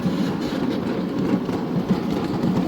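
Train rolling slowly along the lead track into a passenger station, a continuous low rumble with soft rhythmic clatter of wheels, fairly close and steady.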